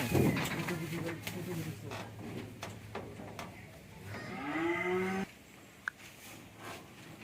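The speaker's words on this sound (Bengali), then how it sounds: "রহমতুল্লাহ ভাই যে গরু উঠাই দিলাম" A cow moos once in a long, drawn-out call midway through as it is loaded after purchase, amid outdoor background noise and scattered clatter, with people talking nearby.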